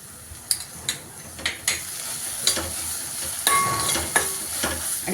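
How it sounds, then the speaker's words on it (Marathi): Ginger garlic paste frying in butter in a pan, with a steady sizzle under sharp scraping stirs of a spoon against the metal, close and fairly loud, with no talking. "आता आपण आल्या लसणाची पेस्ट टाकूया."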